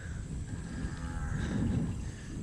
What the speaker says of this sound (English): And the cows